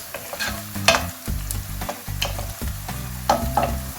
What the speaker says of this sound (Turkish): Şimdi biberlerimizi attık içine. Şöyle bir çeviriyoruz.